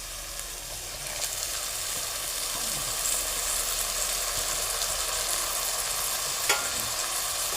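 Onion and tomato sautéing with garlic paste for pav bhaji, a steady close sizzle with occasional stirring scrapes throughout, no talking.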